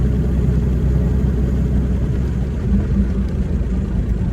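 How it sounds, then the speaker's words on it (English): A 1931 Chevrolet coupe's old engine runs while driving, giving a steady, loud low rumble with a continuous mechanical drone and no voices. "pretty nice to drive an old car"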